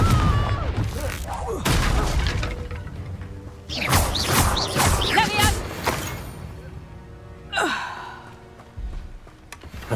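Confringo blasting spells from Hogwarts Legacy strike wooden crates in a series of loud, crackling bursts, with a cluster of heavy impacts in the middle and one more sharp blast near the end, over game ambience.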